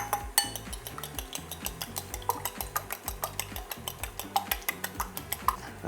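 Two eggs being whisked in a bowl for a quick veggie omelette, a fast, steady run of bright clicking strokes, close and fairly loud, with no voices.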